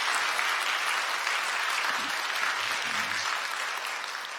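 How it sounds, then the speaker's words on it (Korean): Dense, steady applause from a congregation filling the room during a Sunday church service, with no talking over it. "여러분들 감사의 박수 부탁드리겠습니다"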